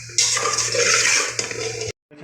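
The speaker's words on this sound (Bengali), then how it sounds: "এক দু মিনিটের মতো ভেজে নেওয়া হয়।" Soybean chunks fry and are stirred in hot oil in a pan, giving a loud, steady sizzle with light scraping for about two seconds before cutting off abruptly.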